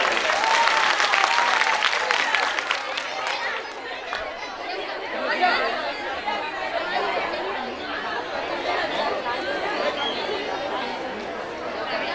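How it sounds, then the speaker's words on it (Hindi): A crowd claps at a Bhagwat religious gathering, loud at first and then settling into steady, rhythmic clapping while voices and a murmur of talk carry on beneath it. "ताली बजाते हुए"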